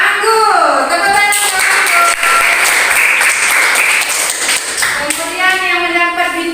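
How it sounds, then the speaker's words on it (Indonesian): A primary school class in a math lesson claps hands together in a loud, close burst of rhythmic clapping, with children's voices and a teacher's voice speaking over it. "Tepuk tangan."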